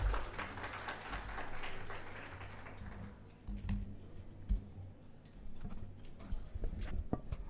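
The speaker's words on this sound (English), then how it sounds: "Ladies and gentlemen, can we give a huge round of applause for him" A crowd at the 8th CSR Health Impact Awards breaks into a dense round of applause that fills the hall for about three seconds, then thins into scattered claps and small knocks before dying away.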